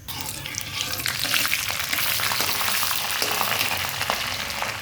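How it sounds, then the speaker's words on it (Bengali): Panch phoron, bay leaf and dry red chili dropped into hot oil in a wok, crackling and sizzling loudly and steadily up close, with light stirring and no talk. "ফোড়নে আমি এই পাঁচফোড়ন, তেজপাতা, শুকনো লঙ্কাটা দিয়ে দেব"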